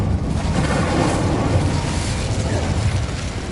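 The Incendio fire spell cast in Hogwarts Legacy, inside an abandoned cave, makes a loud, sustained roaring whoosh with a deep rumbling low end that stays steady throughout with no distinct breaks.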